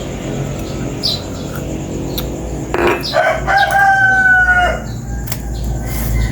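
A rooster crows loudly in the morning, one long drawn-out call rising mid-clip over a quiet rural background with faint bird sounds and clucks.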